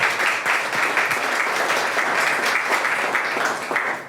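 A meeting audience at Quinn Chapel Christian Life Center in Frederick claps steadily to welcome a deacon to the podium, dense and close, holding strong throughout before tapering at the very end.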